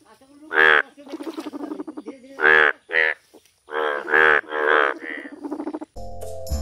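A frog croaks in a loud series of separate calls with short gaps between them, heard close up and alone, followed by a brief musical note at the end.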